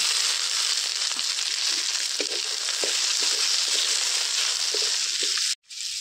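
Tomato pieces go into roasted onion and chilli frying on a wood-fired village stove for kurma gravy, giving a steady loud sizzle with small stirring scrapes throughout, then a brief cut to near silence at the end.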